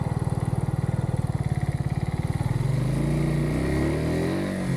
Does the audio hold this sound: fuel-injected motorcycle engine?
yes